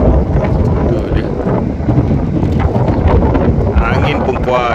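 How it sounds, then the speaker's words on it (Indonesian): Strong sea wind on a jet ski out at sea off the jetty at Kuala Perlis at low tide, loud blustery roar buffeting the microphone nonstop, with a muffled voice briefly mixed in. "Angin pun kuat"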